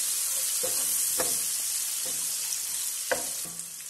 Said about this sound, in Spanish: Agrego los pimentones, solo la mitad de los pimentones para sofreír.